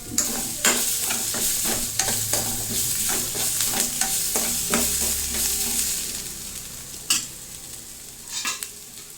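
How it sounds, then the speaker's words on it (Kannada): Onions frying in a pan until brown for a fenugreek-leaf and paneer gravy give a steady close sizzle, broken by repeated scraping spoon strokes, with no talking. "ಬ್ರೌನ್ ಕಲರ್ ಬರೋವರೆಗೂ ಹುರಿತಿರಬೇಕು ಉಳ್ಳಾಗಡ್ಡಿನ"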